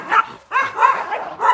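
Several short, sharp yips and barks in quick succession from a dog named Stella, close by on grass at an animal clinic near a dock in Tzununa, with brief gaps between each burst.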